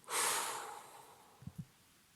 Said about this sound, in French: Tu peux maintenant prendre une grande respiration et souffler fort pour te redonner de l'énergie.